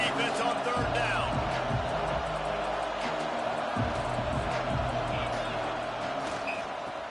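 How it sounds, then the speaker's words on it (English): A football stadium crowd roars steadily on a third-down defensive stand, a dense sustained wall of noise with a commentator talking over it. "Decibels rising as the crowd gets behind this defense on third down."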